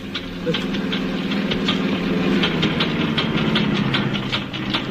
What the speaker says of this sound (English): There's something wrong with the engine. It's packing up.